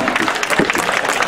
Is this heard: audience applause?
yes